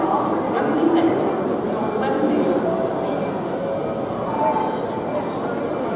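Low rumble of a Virgin train at London Euston station, steady station ambience with faint clatter and a distant hum throughout, while people talk nearby.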